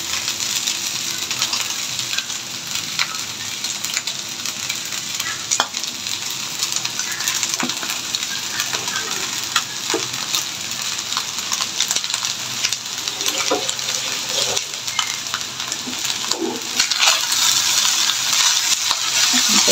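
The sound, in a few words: stirring and breaking up lumps of leftover rice frying in pan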